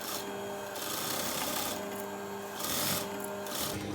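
A sewing machine stitches a 1.5 centimetre seam around a halterneck dress armhole, its motor running in a steady close whir with brief pauses and speed changes.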